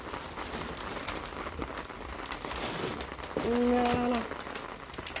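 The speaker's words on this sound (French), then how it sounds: "Je pensais pas recevoir la pluie pour être honnête." Steady rain pattering outdoors on a surface, a continuous fairly loud wash throughout, with a brief tonal chirp or whistle near the end and a short spoken word.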